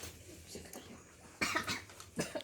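In a classroom, a sick student gives two sharp, loud coughs close by, one after the other, following a stretch of quieter murmuring.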